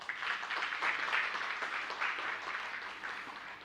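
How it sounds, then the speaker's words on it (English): Applause from an awards ceremony audience at the E² Responsible Entrepreneurship Awards, a steady, fairly soft wash of many hands clapping at a distance, sustained evenly throughout without a clear peak or ending. "Round of applause."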